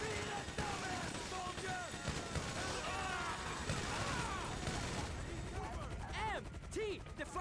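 Video game gunfire crackles in quick bursts and rattling volleys, fairly dense but mixed low, with someone talking over much of the shooting.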